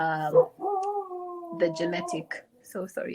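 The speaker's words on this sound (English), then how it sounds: "that's my dog." A dog in a room lets out a long, wavering howl lasting over a second, close and fairly loud, with people talking just before and after it.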